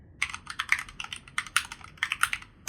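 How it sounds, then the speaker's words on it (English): Clicky computer keyboard typed at a steady, quick pace, with crisp individual keystrokes and occasional louder clacks, close and dry with no talking. "So you get to hear my click keyboard."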